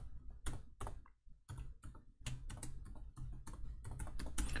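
Rapid bursts of clicky keystrokes on a computer keyboard, close and quiet, in uneven runs with short pauses between them.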